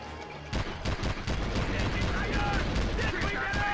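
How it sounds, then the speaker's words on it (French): Sustained machine gun fire in the video game Conflict Vietnam, a dense continuous rattle of rapid shots, loud and close, starting half a second in and running to the end. "Mitrailleuse."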